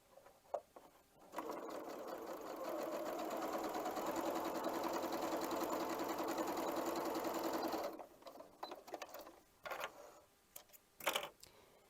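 A sewing machine stitches a quarter-inch seam joining pieces of a scrappy Irish Chain quilt block, running steadily for about six seconds at close range after a brief start, then stopping amid small handling clicks and rustles.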